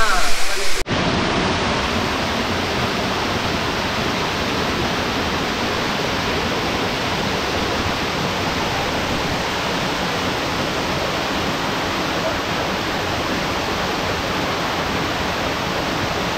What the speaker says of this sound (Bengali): জলের আওয়াজ পাচ্ছি এখান থেকে।